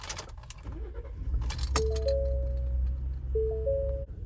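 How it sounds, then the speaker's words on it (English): Keys jangle and clink close by as they go into the ignition of a 2020 Ford F-150 XLT, followed by a few clear electronic chime tones from the truck. "To start it, just put the keys in."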